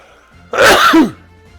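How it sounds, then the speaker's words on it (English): A single loud, close sneeze bursts out sharply and ends with a falling vocal tail, heard alone. "Gonna sneeze."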